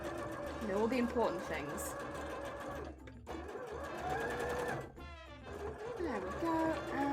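A sewing machine stitching closed stuffed jelly toys runs in fast, whirring bursts, stopping briefly twice before starting again. It is close and clear, and a person talks over it.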